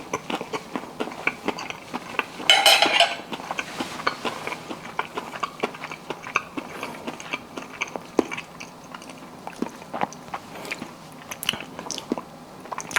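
Crunchy bites and steady chewing of buttermilk fried chicken, close to the mic, with a crisp bite early on followed by repeated soft chewing sounds for a long stretch.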